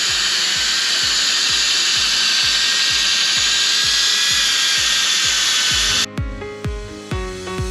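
A drill spins a wool pad to polish a car headlight on a Mazda MX-5 NB with a Meguiar's One Step restoration kit, a loud steady whirring with a rhythmic thumping pulse that winds down near the end.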